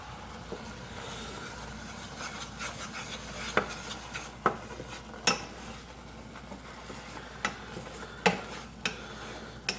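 Strawberry jam being stirred in a pan, a soft continuous rubbing and scraping with sharper knocks of the spoon against the pan every second or so, close and fairly quiet, with no talk.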